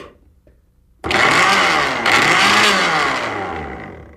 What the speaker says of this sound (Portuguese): se eu ligar esse liquidificador